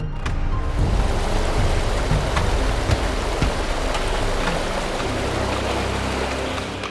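Roaring waterfall on the Yellow River, its sediment-laden water crashing in a steady, dense wash of noise that stays loud and unbroken throughout, with no voices.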